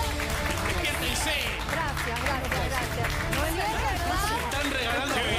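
A studio audience on a Spanish-language TV show claps and cheers amid loud crowd chatter and voices, a dense, continuous wash of applause mixed with talk.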